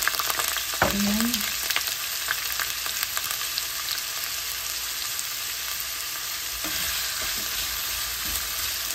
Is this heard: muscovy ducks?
no